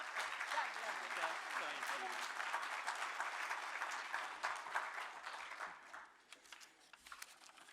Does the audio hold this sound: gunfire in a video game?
no